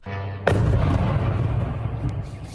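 A sudden loud explosive boom from a drone strike breaks a quiet background, followed by a long rumbling roar that slowly fades.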